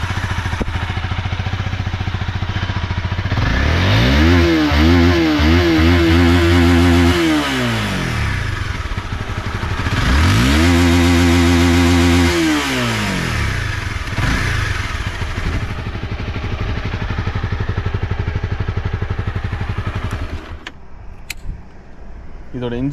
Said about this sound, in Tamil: ஸோ நான் இன்ஜின் சவுண்டை காமிக்கிறேன் பாருங்கள்.